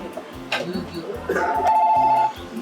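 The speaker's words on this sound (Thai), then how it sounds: "โหยุ่งว่ะที่มีโทรศัพท์มาเจ้า" A telephone rings inside a small Japanese izakaya, a steady electronic tone sounding over chatter and restaurant clatter, with people talking throughout.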